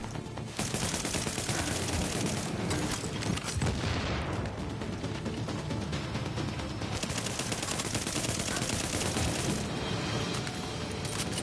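Rapid bursts of automatic gunfire in the video game The Division, dense and loud, with overlapping shots and booms crackling almost continuously.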